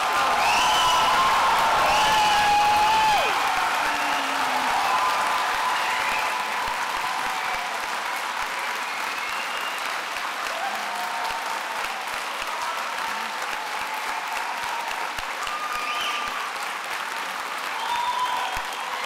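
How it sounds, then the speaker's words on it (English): Sustained applause from a graduation ceremony audience in Glasgow as new graduates stand, broad steady clapping with a few whoops and a soft musical tone running underneath. "let's give them a applause"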